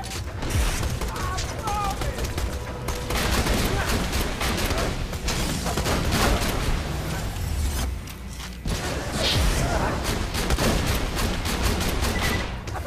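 A legendary Borderlands 2 shotgun fires repeatedly in a level 61 setting, loud heavy blasts in a rapid volley with mechanical clatter and game effects, under someone talking throughout.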